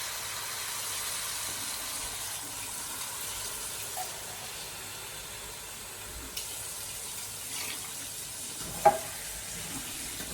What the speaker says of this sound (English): all I'm going to do is add some water to that